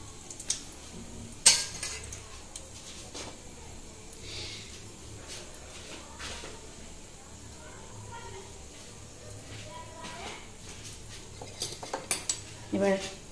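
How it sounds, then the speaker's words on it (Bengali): Spices frying in a pan over a medium gas flame, quiet clinks of a metal spoon against the pan and soft stirring, with a few louder scrapes near the end and a voice speaking now and then. "এটা 5-6 সেকেন্ড মতো একটু ভেজে নেব।"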